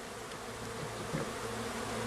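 A dense, steady buzz of many honeybees confined in a package cage fills the air, continuous and close, with no voices.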